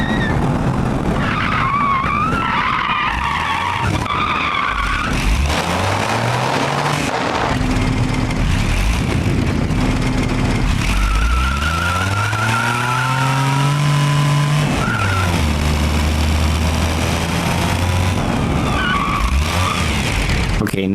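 A facelifted Ibishu Kevin kei truck with a 660cc dual overhead cam engine and a 3-speed manual transmission in BeamNG Drive, its engine revving and falling while the tires skid and squeal in repeated loud bursts.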